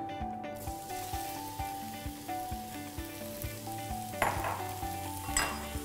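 Sliced onion fries in olive oil in a hot pan for onion soup, making a soft, continuous sizzle with occasional stirring clinks over quiet tonal background music.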